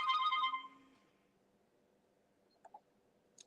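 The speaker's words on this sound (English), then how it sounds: "we have another call coming in" A short electronic telephone ringtone for an incoming call sounds fairly quietly at the start, then fades out, followed by a couple of faint clicks against near silence.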